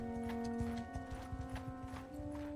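Horses in a village in the video game Bannerlord: hooves clip-clopping in uneven rhythm with a sustained tonal drone behind, fairly faint and with no talking.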